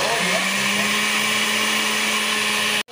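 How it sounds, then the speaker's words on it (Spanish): A blender whirs loudly and steadily, blending huancaina sauce with milk, a close, continuous motor drone that stops abruptly at the end. "Lo vamos a licuar con la leche"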